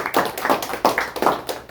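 A small group claps in a welcoming round of applause for a guest at a flower shop, a brief, close burst of steady, uneven hand claps.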